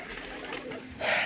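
Pigeons in a loft give a soft, low cooing that swells near the end of a short stretch, close and moderately loud over faint background noise.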